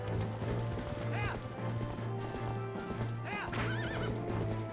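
A horse in Zelda: Twilight Princess whinnies twice over steady galloping hoof clip-clop and game music, the neighs bright and close within a busy, continuous game mix.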